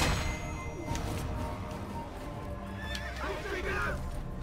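A horse in a medieval video game neighs loudly alongside clip-clopping hooves, while someone talks over the game sounds.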